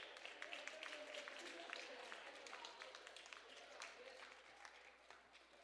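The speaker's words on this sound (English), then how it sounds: "Big round of applause." A crowd at an Ekushey February 21 commemoration applauds a team, steady dense clapping heard from a distance, faint and sustained for several seconds with scattered sharper claps.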